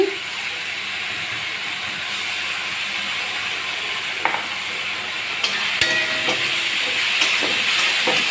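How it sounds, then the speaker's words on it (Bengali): Ginger garlic paste sizzles steadily in hot oil while a fish curry cooks, a constant frying hiss running throughout with a few stirring clicks near the end. "এটা আদা রসুনের পেস্ট দিচ্ছি।"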